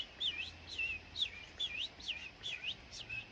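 A songbird sings in a series of repeated, clear whistled phrases about every half second, moderately near and alone against quiet background, territorial song meant to attract a mate.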